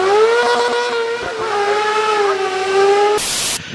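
A 2012 Aixam GTI microcar drives fast, its engine a steady, loud whine that rises and falls slightly in pitch, ending with a brief burst of broadband noise.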